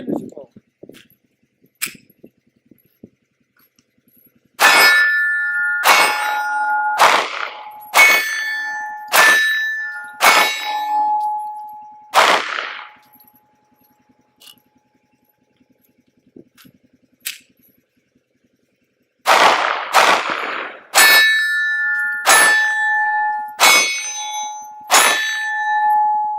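Kahr PM9 pistol fired at steel plates: sharp shots each followed by a bright ringing clang, in quick strings of about seven and then a pause before another rapid string, loud and close.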